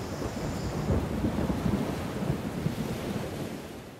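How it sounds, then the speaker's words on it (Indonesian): Heavy rain falls in a continuous broad wash during a thunderstorm, with low rolling rumbles of thunder underneath and no voices. "maka terjadilah hujan."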